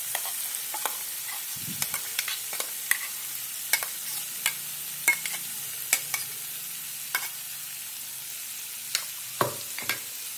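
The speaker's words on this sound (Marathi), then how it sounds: "पाच मिनिटे ग्राइंड केलेली पेस्ट चांगली परतवून घेऊया।" Ground masala paste sautéing in oil with tomato purée for a suran (elephant yam) curry: a steady soft sizzle under regular scraping stirs of a spoon against the pan, no voices.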